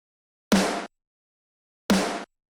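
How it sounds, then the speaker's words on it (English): Two punchy snare drum hits for an electronic-style Doom Eternal remix crack out separately, each short, bright and noisy, with silence before, between and after. "some punchy snares"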